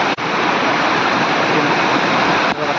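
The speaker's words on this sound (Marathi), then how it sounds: "हे बघा धबधबे बघा" The Korlai waterfall roars as a loud, steady wash of falling water close by, constant throughout with only a brief dip near the start, and no voices over it.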